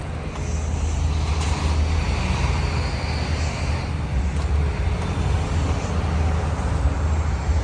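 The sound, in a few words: big black truck driving by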